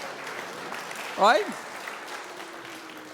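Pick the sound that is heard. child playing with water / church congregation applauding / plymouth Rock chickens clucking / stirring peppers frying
church congregation applauding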